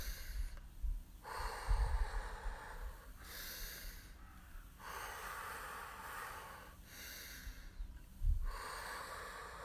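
Forceful breaths blown out to the side in an outdoor morning breathing exercise, several strong whooshing exhales in a slow regular rhythm with quieter inhales between, close and without talking.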